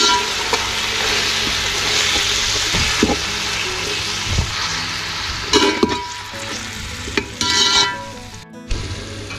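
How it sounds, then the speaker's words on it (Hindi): Tomatoes and onions fry in a pan for a chicken-feet yakhni pulao, giving a loud, close, steady sizzle with intermittent scraping and knocking from stirring against the pan. "टमाटरों को भी इसी तरह से फ्राई करेंगे।"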